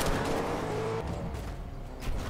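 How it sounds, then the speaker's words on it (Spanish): Car in the video game Fortnite approaching, a low rumbling engine that is heavier at first and then eases off, fairly faint and heard alone for a couple of seconds. "¿Viene coche?"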